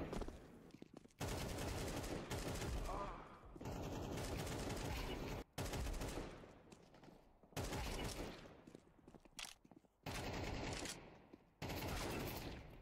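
AK-47 fire in Counter-Strike 2 comes in six loud sustained bursts, each a dense rattle of shots running one to two seconds, separated by short gaps with faint talk barely present underneath.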